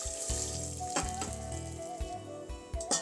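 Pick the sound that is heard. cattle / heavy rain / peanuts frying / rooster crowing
peanuts frying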